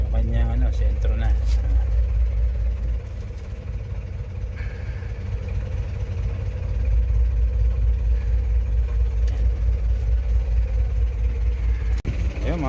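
An 18-horsepower ProQuip engine with reverse gear runs steadily, close and fairly loud, with a low continuous drone and some mechanical clatter, while someone talks over it.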